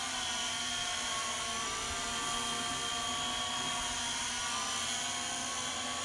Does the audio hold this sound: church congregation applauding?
no